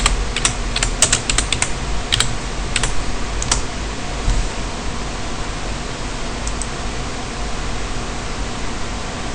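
Typing on a computer keyboard during a LAMPP and WordPress setup on Ubuntu Linux, a quick cluster of clicking keystrokes early on, then a few scattered taps over a steady loud hiss of background noise.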